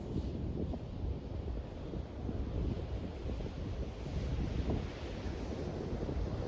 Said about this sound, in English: just to drink in the sounds of the waves